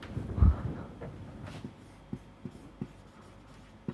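A marker or chalk squeaks and taps on a board while a math derivation is worked out, with a few short strokes followed by scattered distinct taps, quiet and close, without speech.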